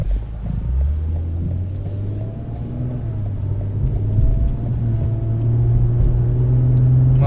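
A 2019 Lexus RC300 AWD accelerates with the pedal pressed deep and no downshift. Its engine gives a steady, low rumble from inside the cabin that slowly rises in pitch and loudness, with some road and wind noise.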